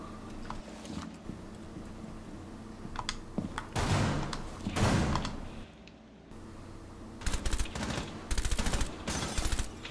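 Rapid automatic gunfire from Rainbow Six Siege rings out in several loud bursts, with gaps of quieter game ambience and clicks between volleys and a dense final stretch of shots.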